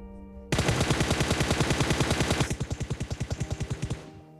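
Continuous automatic gunfire in the mobile battle royale game PUBG Mobile, a loud, rapid stream of evenly spaced shots that breaks briefly partway through, resumes, then cuts off.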